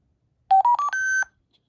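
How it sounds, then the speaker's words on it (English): Scott GSR gas mask voice projection unit powering on with a short ascending sequence of about four clear electronic tones, the last held longest, close and alone in silence. "it makes like a little Motorola beep, which I find quite cool"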